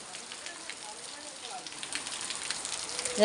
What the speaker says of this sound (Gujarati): હજુ વરસાદ વધતો જાય છે જો